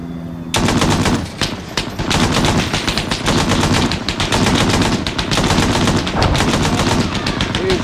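Sustained rapid automatic gunfire in the video game Half-Life: Badlands, loud dense bursts running almost continuously with brief gaps.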